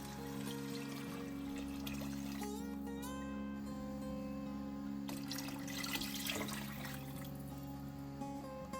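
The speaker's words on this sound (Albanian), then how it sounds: "Më pas do t'i hedhim 1 litër e gjysmë ujë." Water pours into a soup pot of chicken and vegetables in a continuous splashing stream, close by, with a brief surge of louder pouring midway.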